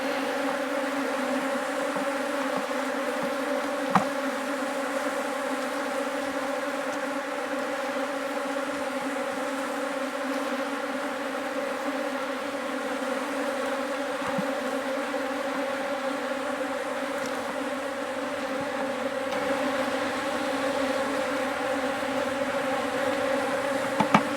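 Bees from a defensive top bar hive swarm in a dense, steady buzz that hangs close and unbroken for the whole stretch, with a few faint knocks and no voices.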